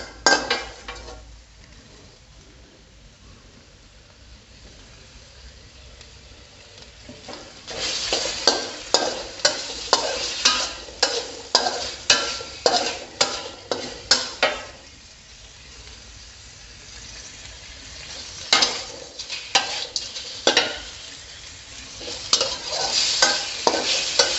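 Fresh shrimp stir-fried with shrimp paste and sator beans in a pan. A steady sizzle runs under bursts of rapid scraping and clattering from a spatula against the pan, in rhythmic stretches with quieter pauses between them.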